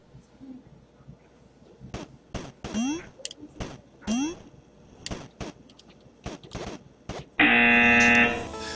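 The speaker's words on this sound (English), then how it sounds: "Hopefully we can hear the buzzer." A loud, steady electronic buzzer blares for about a second and a half near the end, following scattered knocks and bright sliding tones, during a drinking-game power hour.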